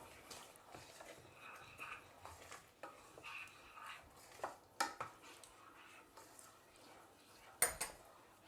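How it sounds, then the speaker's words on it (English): Spinach is stirred in a pan with faint, scattered scrapes and light utensil clinks against the metal, fairly quiet and intermittent, with a couple of sharper knocks near the end. "Give it a stir."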